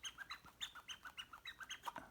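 A vintage souvenir birdhouse toy with moving birds gives off a rapid series of quiet, regular chirping and tweeting bird calls.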